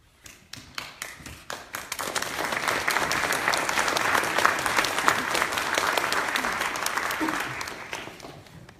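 An audience at a Fremont town hall with Rep. Ro Khanna breaks into sustained applause that builds from a few scattered claps into a full, dense round and then slowly tapers off.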